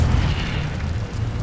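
Incendio fire spell cast in Hogwarts Legacy, a loud, continuous low rumbling whoosh of flame that fills the moment without pause and without any voice.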